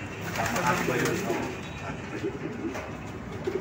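Racing pigeons coo softly in a loft over a dense, rustling background, several birds murmuring close together in the enclosed space.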